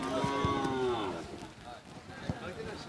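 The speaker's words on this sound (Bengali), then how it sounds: "মুন্সিরহাটের বিরাট গরু ছাগলের বাজার" Cattle at a large cattle and goat market in Munshirhat lowing with a drawn-out, bending call near the start, surrounded by a busy outdoor din of murmuring voices and shuffling.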